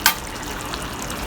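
Water cooks off in a pot of chicken pot roast, giving a steady, moderately loud hiss and sizzle with a brief sharp splash at the start.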